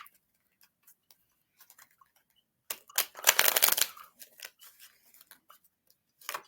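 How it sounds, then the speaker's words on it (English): A deck of cards is shuffled close up, scattered soft ticks and taps leading into a dense riffling burst of about a second, followed by more light card clicks, with no voices. "I'm just gonna shuffle and pick the first card that comes out."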